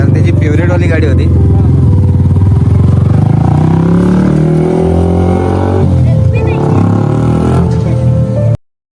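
A Yamaha R15 motorcycle engine revs loud and close in rising and falling surges, with voices chattering around it. The sound stops abruptly at the end.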